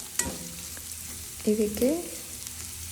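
Ingredients for shavige uppittu frying in a pan, a low steady sizzle with a brief clatter, while a voice speaks briefly over it.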